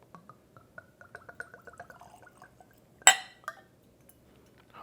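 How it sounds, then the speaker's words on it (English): Jack Daniel's 130 proof rye whiskey pours from the bottle into a glass, a quiet run of small glugs and clinks ending in a sharp glassy clink, with no talking. "nothing like the gurgle sound when you're pouring some alcohol"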